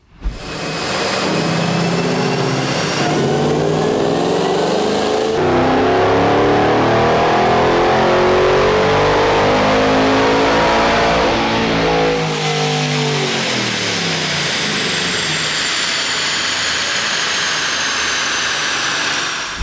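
A stock 2013 Shelby GT500 engine revs hard on a dynamometer, climbing in pitch through a sustained wide-open pull with a whining supercharger tone, then dropping back to a steady high drone; loud and close with no talk.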